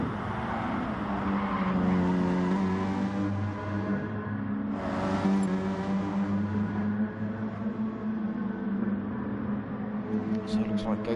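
Peugeot race car engine from a racing video game, a steady loud engine drone with shifting pitch throughout, with a commentator talking continuously over it.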